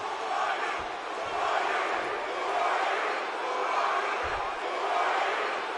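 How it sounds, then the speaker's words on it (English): A wrestling crowd at an arena roars and cheers in a dense, continuous wash of voices that swells and eases, with a couple of dull thuds from the ring underneath. "And the crowd is really going, oh, whoa, wait a minute."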